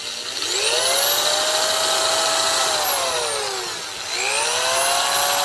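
A PacTool Snapper shear driven by a cordless drill cuts fiber cement hardie board siding, giving a loud, steady high-pitched motor whine with a grinding chatter that dips briefly near the end, then spins back up.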